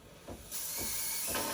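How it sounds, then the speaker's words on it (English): A Breville Barista Pro BES878 espresso machine's steam wand purges steam, opening with a few soft puffs and then a loud, steady hiss that carries on to the end. "you have to turn it on and let it purge steam for maybe 3 seconds."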